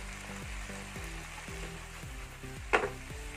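Cucumber and dried shrimp fry with vinegar in a pan, giving a soft, steady sizzle under repeated rhythmic stirring strokes and a brief louder clink near the end.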